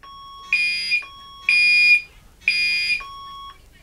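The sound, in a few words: fire alarm piezo buzzer sounding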